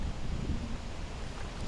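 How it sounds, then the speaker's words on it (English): Steady wind noise buffets the microphone with a low, continuous rumble during a Jeep trip at Tosohatchee, fairly close and unbroken, with no voices. "Today, it's a bit windy."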